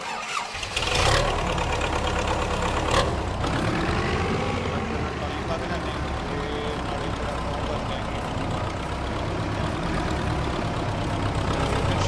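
A Massey tractor engine in Farming Simulator 25 starting up and then settling into a steady, continuous idle rumble, with someone talking over it throughout.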